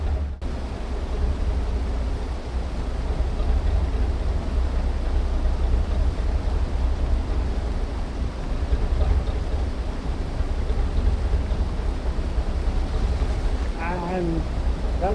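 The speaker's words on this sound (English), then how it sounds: "You can hear me above the rushing water behind me." Water rushes steadily out of an emptying canal lock on the Oxford Canal, a loud continuous wash filling the whole stretch.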